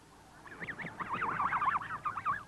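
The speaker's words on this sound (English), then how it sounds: "The Bartletts pointed to the wild snow geese winging their way southward overhead." A flock of wild snow geese honks in flight overhead, many overlapping calls in a busy, rising and falling chorus, fairly close and loud.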